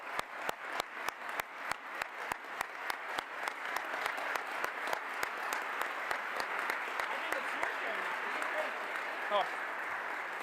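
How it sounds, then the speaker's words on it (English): A crowd applauds steadily at an event announcing new Canadian Space Agency astronaut assignments, the clapping dense and sustained throughout, swelling slightly toward the end. "Ladies and gentlemen, a big round of applause for our 2 astronauts"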